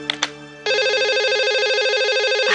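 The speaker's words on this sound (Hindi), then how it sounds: "ये पता नहीं किसका फोन है, कोई बात ही नहीं कर रहा।" A telephone rings indoors with a steady, loud electronic warble that starts abruptly after a couple of short tones and continues unbroken.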